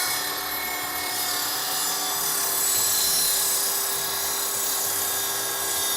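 Saw cutting wood held clamped against a fence while building a wooden recipe box, a steady loud, continuous grinding whine that runs unbroken through the whole stretch with no talk.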